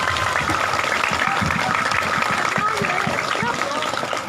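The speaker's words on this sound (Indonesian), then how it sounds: "ya, tepuk tangan." Students and audience at a school Isra' Mi'raj gathering clapping together, a steady, dense patter of applause, with murmuring voices mixed in underneath.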